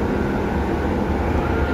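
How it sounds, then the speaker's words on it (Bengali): A loud, continuous low rumble and roar of a passing train, steady throughout without pauses or voices. "যে ট্রেন চলে গেল"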